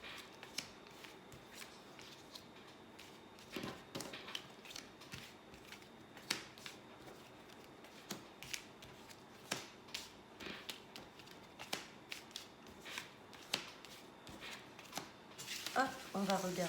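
Tarot cards being shuffled and drawn for a 13-card weekly spread, with soft repeated riffling and snapping taps spaced through the passage, and a quieter voice speaking alongside.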